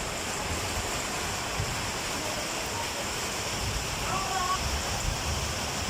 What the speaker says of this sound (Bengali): আকাশে মেঘ, তো বৃষ্টি পড়তেছে।